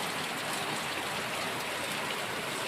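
Heavy monsoon rain pours down in a dense, steady hiss, close and continuous with no talking.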